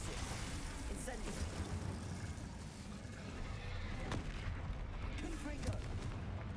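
Confringo fire spells in the video game Hogwarts Legacy burst in dense, continuous explosive booms and crackling blasts, loud and rumbling throughout, mixed with game noise.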